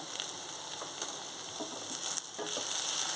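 Ponnaganti greens frying in a pan with salt and turmeric, a steady soft sizzle and crackle with faint stirring scrapes, close and continuous without voices.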